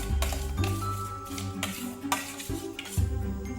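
A spoon stirs an activated yeast mixture in a bowl, with soft clinks and scraping repeating steadily over a low background hum, close and moderately loud.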